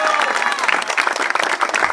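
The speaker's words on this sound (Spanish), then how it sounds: "Fuerte aplauso para nuestras candidatas." Loud, close crowd applause for political candidates at a Michoacán rally, with brisk clapping and a bright tone running under it.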